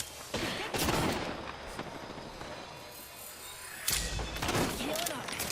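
Bursts of rapid energy-weapon gunfire in a sci-fi shooter game, two dense crackling volleys separated by quieter rattling, with a voice talking over the action.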